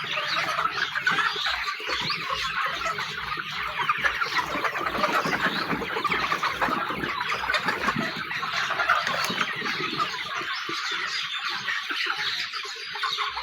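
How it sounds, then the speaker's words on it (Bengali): Sonali hybrid chickens on a farm of some five thousand birds produce a dense, continuous chorus of clucking and squawking, loud and close throughout with no speech. "এই খামারে মুরগি আছে পাঁচ হাজার"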